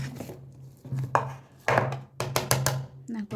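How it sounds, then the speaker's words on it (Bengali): Boiled potatoes being mashed in a bowl for sabu luchi, a series of close, irregular soft thuds and squishes with short pauses between strokes. "এদিকে দেখো আলু সিদ্ধ করে নিয়েছি, আলুটাকে একটু ম্যাশ করে নিচ্ছি।"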